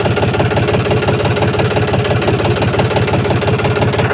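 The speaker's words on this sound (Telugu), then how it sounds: "బండి సౌండ్ చూడండి ఫ్రెండ్స్, బండి సౌండ్ చూసుకున్నట్టయితే చాలా బాగుంది." A John Deere 5104 tractor with a black engine runs at a steady idle, a loud, close diesel chug with an even rhythmic knock and no talking over it.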